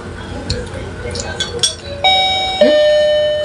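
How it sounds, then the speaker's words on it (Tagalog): A doorbell rings twice, two clear electronic chimes that ring out and fade, following some brief clatter. "Ano po yung doorbell?"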